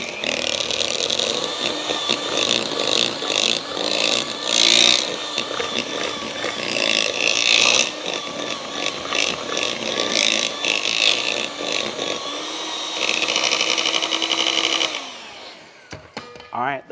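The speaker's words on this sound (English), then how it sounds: "Now this one, I'm using a mixer. So we're gonna cream together butter and sugar." An electric mixer creams butter and sugar for Kona Inn banana bread, whirring loudly and continuously at close range for about fifteen seconds before cutting off abruptly.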